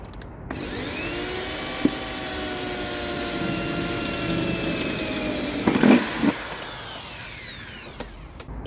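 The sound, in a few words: drilling a hole in thin car sheet metal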